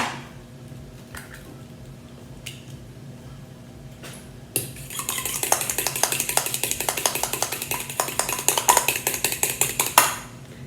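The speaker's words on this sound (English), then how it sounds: "I'm gonna add 1 egg to that. I'm gonna beat it first." An egg is beaten in a bowl for pizza dough: a quick, steady run of light clinking strikes, fork or whisk against the bowl's side, close and fairly loud for about six seconds, with a few softer taps earlier.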